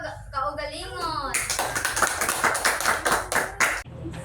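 Children in a classroom clap for themselves, a burst of loud, slightly uneven group claps that follows a teacher's voice and ends abruptly.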